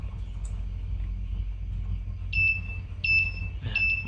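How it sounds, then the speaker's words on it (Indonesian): An electronic buzzer on an AC current and voltage monitor built around a microcontroller sounds three short, steady beeps in a row over a low hum, fairly close and clear. "maka buzzer sama LED menyala"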